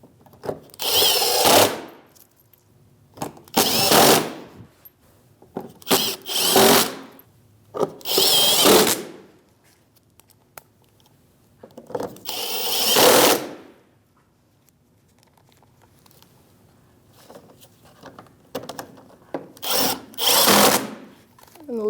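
Power drill driving screws into a 2016-2025 Chevrolet Malibu bumper cover, six short whirring bursts a few seconds apart with quiet gaps between, close and clear with no talk.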